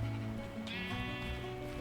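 Sheep in a Minecraft-style survival world bleat in a short wavering cry, clear and close, over a busy game background with no talk.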